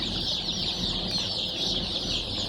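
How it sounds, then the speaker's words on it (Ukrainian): A dense, continuous chorus of many newly hatched incubator chicks peeping at once in a box, high-pitched and steady, filling the space without pause. "Ось ми вибрали курчата."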